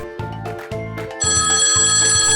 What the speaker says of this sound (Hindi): ये फोन बज रहा है।